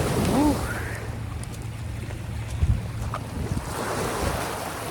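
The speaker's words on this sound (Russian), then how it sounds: "И вот этот еще волны так плещут." Sea waves washing and splashing on both sides of a narrow walkway near Tokarevsky lighthouse, a steady surf roar with heavy wind buffeting the microphone and a brief voice at the start.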